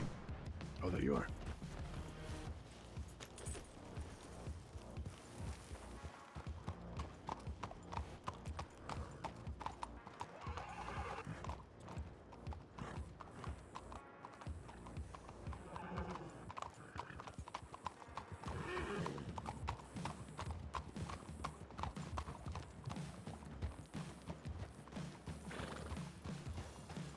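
Horse hooves clip-clop steadily throughout with occasional neighs, under ongoing talking and game sounds, in a Wild West roleplay game.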